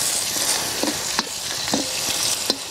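Garlic and curry leaves frying in a pan for Batticaloa-style dal rice, a soft continuous sizzle close up with a few sharp clicks of stirring against the pan.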